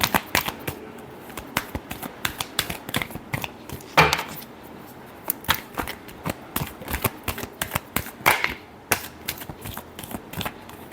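Tarot cards shuffled by hand, a rapid series of crisp riffling flaps and slaps in uneven bursts, close and clear, with brief pauses between clusters and no talking.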